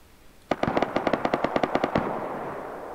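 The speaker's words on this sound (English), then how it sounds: "Those were the shots I called out." Rapid burst of automatic gunfire in the video game Rust, about a dozen sharp close shots in a quick steady rhythm lasting around a second and a half, then a fading tail with no talk.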